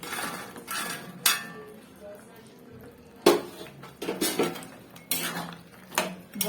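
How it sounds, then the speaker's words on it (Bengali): Fried lentil fritters (bora) dropped one after another into a pot of poppy-seed posto curry, with several sharp metallic clinks of a spoon against the pot and soft kitchen clatter between them. "এবার এর মধ্যে আমি দিয়ে দেবো ভেজে রাখা বড়াগুলো"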